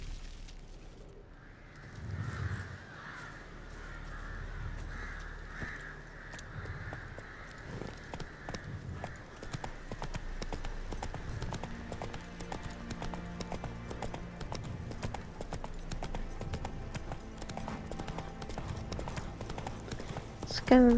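In The Witcher 3, the horse Roach gallops with a rapid rhythmic clip-clop of hooves that runs steadily and fairly loud, while someone talks over it throughout.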